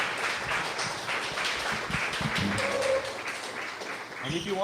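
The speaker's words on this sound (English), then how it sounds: "give you. Philip a round of applause" A developer meetup audience gives a round of applause, dense steady clapping that fills the room throughout, with voices faintly underneath.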